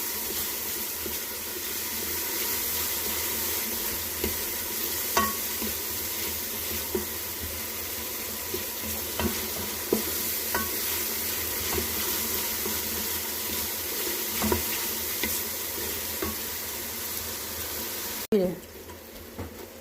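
Fenugreek and potatoes roasting in a pan for aloo methi, giving a steady low sizzle with occasional scraping stirs, then a brief clatter near the end.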